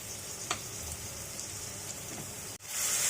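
About a cup of chopped onions with a little salt sizzles faintly in hot oil, a soft steady crackle with a small clatter near the end.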